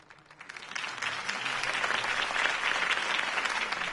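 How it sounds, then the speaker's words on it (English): Video game crowd applause swells from quiet to a full, steady clapping that carries on loudly to the end. "could have heard that applause"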